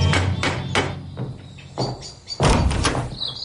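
A knock on the front door of a house, heard as several sharp, close thumps at the wooden entrance, followed by a louder burst of knocks.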